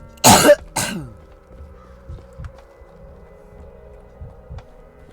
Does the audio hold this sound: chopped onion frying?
no